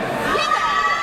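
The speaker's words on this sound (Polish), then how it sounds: "Wielkie brawa!" A crowd cheers and shouts, with children's voices in the mix, as the winner of the Miss AWF Warszawa 2019 pageant is announced. The sound is steady, loud and close, with no clear speech.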